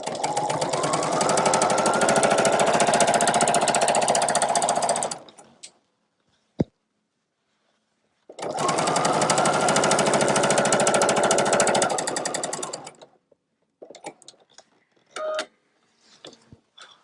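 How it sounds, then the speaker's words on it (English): Sewing machine stitching down the pocket of a tote bag, two loud close runs of fast rhythmic stitching separated by a pause, followed by scattered small clicks and handling noises. "So I'm actually just going to sew right along there."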